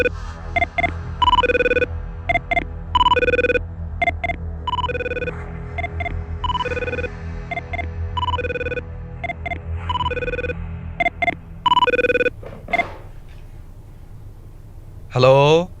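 A telephone rings with a call to an MLA, sounding in repeated evenly spaced bursts of electronic tone for about twelve seconds, followed by a short rising tone.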